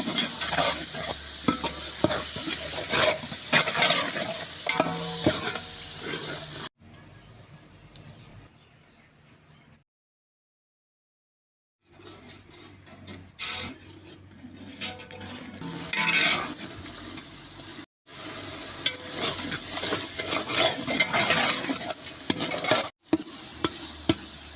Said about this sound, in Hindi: अब शिमला मिर्च डालेंगे इसमें, शिमला मिर्च